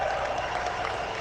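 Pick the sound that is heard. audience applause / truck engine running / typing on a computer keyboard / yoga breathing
audience applause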